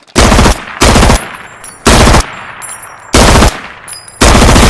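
An M4 rifle in an Escape from Tarkov-style shooter fires four loud, close full-auto bursts, each lasting about half a second, with short pauses and faint mechanical clicks and handling noise between them.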